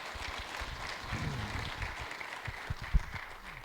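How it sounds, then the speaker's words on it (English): Audience applause at a live stage event, a steady wash of clapping from a crowd that swells slightly and continues throughout, with a few louder close claps standing out near the end. "Give them a round of applause."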